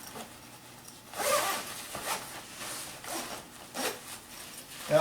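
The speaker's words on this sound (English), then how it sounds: "it's got a really nice zipper on it" The zipper on a SOL bivvy sleeping bag is pulled in several short, close rasping strokes, some quick and some drawn out, with no talking.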